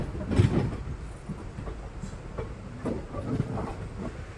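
Train pulling out of Kannur railway station, a steady low rolling rumble with soft rhythmic wheel clunks that swell at the start and again near the end, with no talk.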